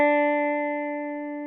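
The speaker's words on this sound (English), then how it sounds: "See the note going on and on and on." A single sustained string note rings on steadily, its harmonics holding clear and slowly fading, played alone with no talk.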